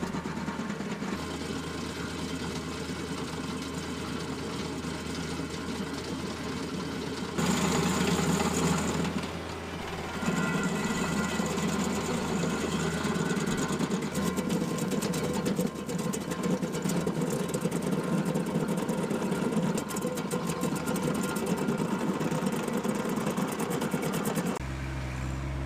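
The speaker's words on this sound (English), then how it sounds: "I suspect this will be the first and last time that I've mowed a yard with the stump grinder on" A stump grinder's heavy engine drones continuously and loudly with a rough, vibrating rumble while mowing a yard, briefly dipping in pitch before roaring back up for the rest.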